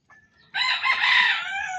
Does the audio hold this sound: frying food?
no